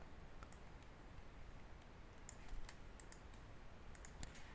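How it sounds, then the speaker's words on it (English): Soft, sparse clicks of typing on a computer keyboard while editing in Photoshop, faint and irregular against a steady background hiss. "I can use shortcuts on my keyboard"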